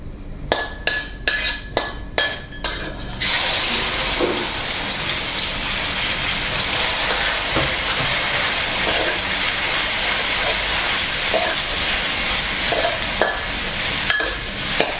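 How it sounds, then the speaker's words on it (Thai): Marinated pork dropped into hot oil for a dry sukiyaki stir-fry sizzles loudly and steadily after a few sharp clinks at the start, a dense continuous hiss with occasional spatter and stirring. "น้ำมันเริ่มร้อนแล้วครับ ให้ตามด้วยเนื้อหมูที่เราหมักไว้"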